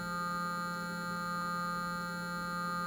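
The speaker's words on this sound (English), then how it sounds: "If I slowly change the phase, you get frequency beating" Steady synthesized sine tones hum continuously with a gentle, even level, their slowly shifting phase giving a subtle beating quality, with no voices.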